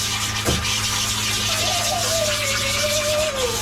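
Blow dryer running steadily on a dog's coat during grooming to de-shed it, a loud continuous whoosh throughout with a faint whine rising in the middle.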